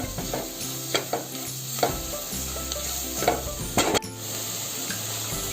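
Masala sautéing in a pan over lowered heat for a fresh cashew usal, with a quiet sizzle under repeated scraping stirs and clinks of a spoon against the pan, close up, no talk.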